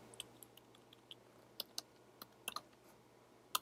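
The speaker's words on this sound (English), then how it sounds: "I type EOF and then I type the contents of this file" Faint computer keyboard typing in a terminal, with scattered soft key clicks at an irregular pace and a few sharper taps, close and quiet.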